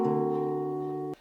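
A single sustained D dominant 13 chord with a flat 13 extension, struck once and held cleanly for about a second before being cut off.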